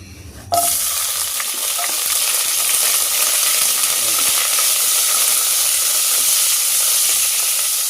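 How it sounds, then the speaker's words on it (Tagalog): Ginger sautéing in a little cooking oil for salmon sinigang: a sudden loud sizzle starts after a brief quiet moment and holds as a steady, close, bright frying hiss with faint stirring clicks, no talking. "Ilagay lang tayo ng konting mantika mga idol para sa ating pagigisa."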